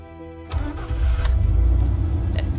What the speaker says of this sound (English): I heard the low hum of the engine.